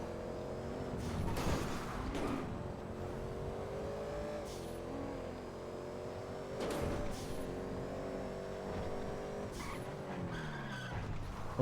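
A car in the game GTA, driven in a police pursuit, revs its engine as its tires screech and skid through several long squeals, loud and close with a steady engine hum underneath.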